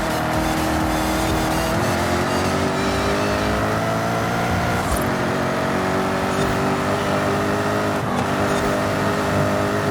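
Jaguar XKR-S GT racing engine in Forza Horizon 5, a loud continuous roar holding high revs through a flying lap with pitch sweeps from gear changes and braking, no talk over it.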